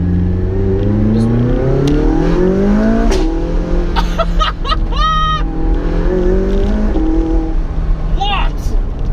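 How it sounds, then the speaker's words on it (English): A McLaren 675LT engine revs up through the gears, loud and close from inside the cabin, with sharp exhaust pops and crackles on the upshifts; people talk over it. "One of this thing's greatest party tricks is the way it pops on upshifts."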